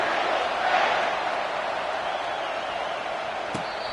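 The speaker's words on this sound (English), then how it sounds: "This crowd, full throat, splitting the eardrums" Stadium crowd at a college football rivalry game roaring steadily after a touchdown kickoff, a dense sustained wall of cheering noise with no break, loud and broad throughout.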